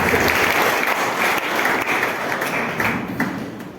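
A crowd applauds loudly and steadily, a dense wash of many hands clapping at once that stays strong for several seconds.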